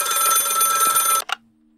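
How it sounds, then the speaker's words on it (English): A telephone rings in a video game set in a lakefront restaurant kitchen, a loud, steady ringing tone that runs for just over a second before cutting off abruptly, followed by a short burst and then quiet. "once we answer the phone, we should get our second ending"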